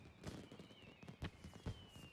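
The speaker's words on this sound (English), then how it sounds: "We get some fireworks" Fireworks at the Rising, the yearly celebration event in the Final Fantasy XIV video game: a few soft crackling bursts at an irregular pace over a faint steady tone, quiet and distant, with no talking.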